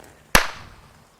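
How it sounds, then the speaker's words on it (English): A single sharp gunshot cracks out during a hog hunt in South Texas brush country, loud and sudden, followed by a short decaying echo in an otherwise quiet setting. "then we hear a gunshot"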